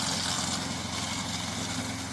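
A crawler RC lawn mower's engine runs with a steady, close mechanical drone and hum, continuous throughout without any talk.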